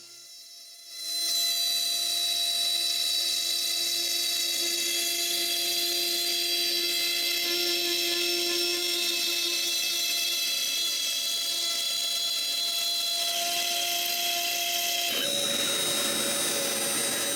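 A CNC machine cuts aluminium for the first time, with a little water added to the cut, giving a steady high-pitched whine with bright tonal overtones that runs continuously and loud before abruptly changing near the end.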